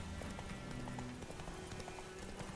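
Hoofbeats of Roach, the horse in the video game Witcher 3, clip-clopping in a steady running rhythm, close and continuous for a couple of seconds under a low droning game ambience.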